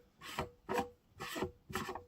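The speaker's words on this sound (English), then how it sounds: "So using this straight 90 that came with the pump, we're going to go ahead and thread that in." A straight 90-degree pipe fitting supplied with a utility or submersible pump is threaded into the pump in four rhythmic rasping turns, close and clear, each stroke about half a second with short pauses, and no talking.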